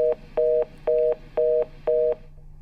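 Telephone tone heard after a call is cut off: five evenly spaced beeps of about a quarter second each, clear and close, repeating at a steady rhythm with no voices.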